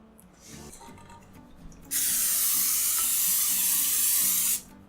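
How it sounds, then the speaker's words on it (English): A short rustle, then a steady pressurized hiss of cooking spray coating a cake pan for about three seconds before cutting off, close by. "You just pan spray so the cake doesn't stick."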